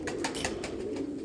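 Soft, repeated cooing from a Qasori pair of dry-footed pigeons held close by, a steady burbling coo with a few brighter pulses, heard alone without talk.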